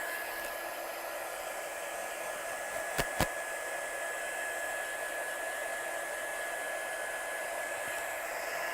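A hair dryer blows steadily over a paper envelope in a studio, a constant close airy roar with a faint tonal whine, broken by two brief clicks around the middle.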